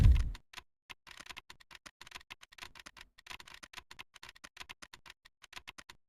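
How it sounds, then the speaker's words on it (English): Rapid, irregular clicking from the Voices of the Void video game, a dense run of small dry ticks fired off in quick succession after a brief opening thump, close and fairly quiet with no voices over it. "It's a very fun clicking noise."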